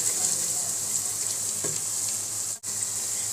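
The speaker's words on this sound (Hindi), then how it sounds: "अब ये मसाला हमारा बहुत ही अच्छे से भुन चुका है।" Spice masala with turmeric roasts in a pan for Lahori white chickpeas, a loud, continuous sizzle with a faint stir and a brief dropout near the end.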